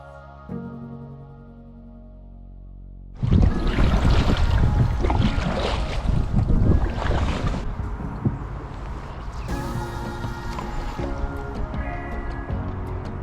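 A rowing boat moves between pike fishing spots: oars churn and splash water in steady, close, fairly loud strokes after a quiet low hum at the start.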